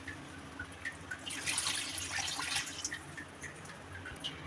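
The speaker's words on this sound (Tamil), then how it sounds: "தண்ணி வந்து நமக்கு தேவையான அளவு ஊற்றிக்கிறோம்." Water poured into a pot for mutton leg soup, a close, continuous splashing stream with bright drips and gurgles rising mid-pour, alone without talk.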